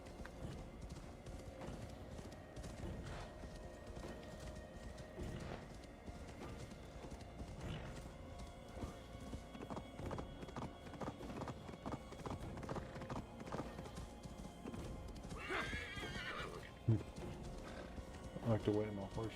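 A horse in a snowy video game world trots with rhythmic clip-clopping hooves and gives a whinny near the end, all quiet, with a person talking over it.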